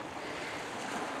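Steady wash of sea waves breaking on the shore at Reculver by an old Roman fort, heard faintly from a distance as a continuous rushing hiss mixed with wind buffeting the microphone.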